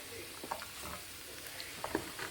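Beef strips stir-fried in a pan with an oriental mix give off a faint, steady sizzle broken by a few soft stirring scrapes, with no one speaking.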